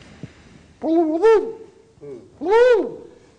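A human voice imitating a female magpie's call: two loud, close, warbling hoot-like phrases with rising and falling pitch, separated by a short pause.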